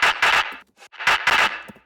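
Two bursts of layered dubstep gunshot bass, each a pair of loud, punchy distorted hits with a brief gap between them, sound alone in a rock and dubstep production.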